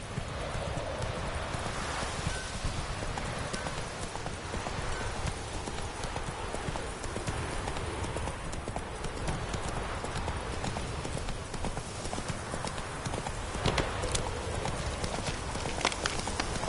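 Horse hooves clip-clopping steadily as a rider travels along in The Witcher 3, a continuous even gait over outdoor ambience that runs throughout, with a brief snort or whinny near the end.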